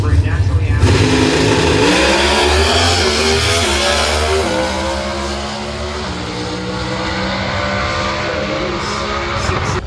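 A race car engine revs loudly at a drag racing event, its pitch rising and falling in sweeping strokes throughout, with a heavy steady roar and no quiet gaps.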